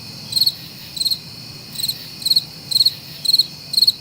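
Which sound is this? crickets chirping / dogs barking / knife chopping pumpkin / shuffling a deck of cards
crickets chirping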